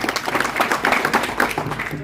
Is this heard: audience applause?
yes